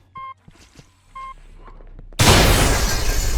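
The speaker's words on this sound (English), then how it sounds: "That was a fucking massive explosion." A few faint clicks and beeps from SS14 give way to a sudden huge blast, a loud roaring burst of noise that keeps rumbling on afterward.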